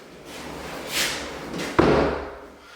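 A pocket door in a mini barndominium slides along its track with a soft rolling rush, then bumps shut with a sharp thud that fades out, heard alone without talk.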